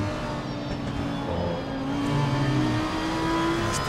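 An Aston Martin race car engine in a racing video game at Watkins Glen, a sustained loud mechanical drone that rises in pitch as it revs up through the gears, steady and close with no talk over it.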